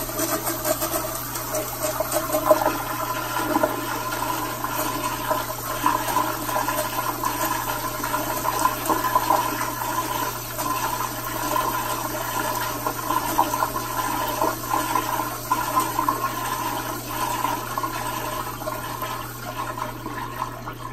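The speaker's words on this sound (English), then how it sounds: "That just flushed forever." A public restroom toilet flushes with a long, steady rush of water that stays loud and unbroken from start to finish, with no talking over it.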